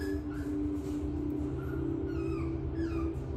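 Dogs whimper and whine indoors in thin, high-pitched cries that rise and fall repeatedly over a constant low background hum, fairly close.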